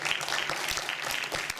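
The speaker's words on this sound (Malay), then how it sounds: "Bagikan sedikit tepukan untuk Saudara Muslim." An audience claps at a student association's annual general meeting, a faint, scattered patter of hands with a few sharper individual claps, no speech over it.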